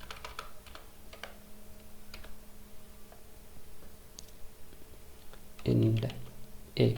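Keystrokes on a computer keyboard while C++ code is entered, soft scattered clicks through most of the stretch, then two louder, denser bursts of tapping near the end.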